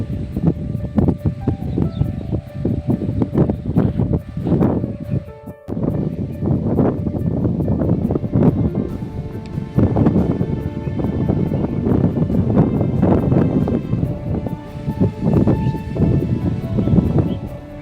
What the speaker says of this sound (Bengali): দেখো কত সুন্দর হাওয়া।